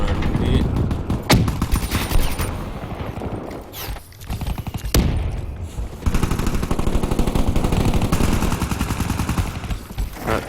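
Rapid gunfire and sharp blasts fill a competitive multiplayer shooter match, with bursts of automatic fire and single loud cracks over continuous game noise and a commentator talking throughout.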